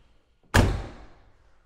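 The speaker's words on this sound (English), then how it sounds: "Doors closed, nice and solid." A single solid door slam on a 1967 Chevrolet Chevelle SS clone convertible, one close heavy thunk that rings briefly and fades out, heard alone.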